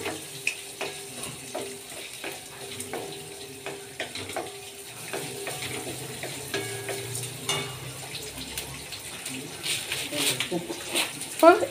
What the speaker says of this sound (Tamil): இப்போ கட் பண்ண சின்ன வெங்காயம் ஆட் பண்ணியிருக்காங்க